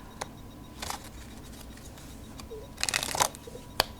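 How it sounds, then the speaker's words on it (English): Playing cards are pushed into a deck during a card trick, giving a few soft, quick riffling and sliding bursts close by against a quiet background, with small clicks between them. "you can just take these 2 cards and bury them in the pack"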